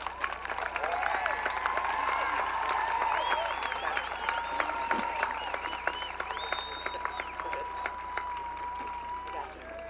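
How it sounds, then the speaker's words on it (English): Audience giving a standing ovation for graduating students at a school graduation ceremony, with sustained loud applause and cheering from a large crowd that fades slightly toward the end. "Please join me in giving a standing ovation for the students in Section C."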